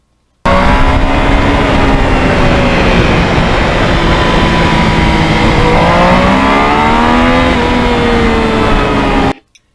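Yamaha MT-09 motorcycle engine while riding toward a frozen lakes area, a loud continuous close engine drone with rising and falling pitch as the throttle shifts, running steadily before cutting off at the end, no talking.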